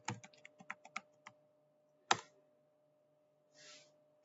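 An IP address being typed on a computer keyboard: a quick run of close, crisp keystrokes, then a pause, one loud keypress like Enter, and a soft breathy sound near the end.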